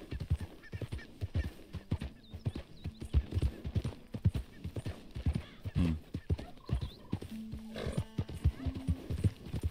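Horse hooves clip-clop steadily at a trot through a darkening town street in the Red Dead Redemption 2 video game, with an occasional whinny, close and clear, continuous throughout.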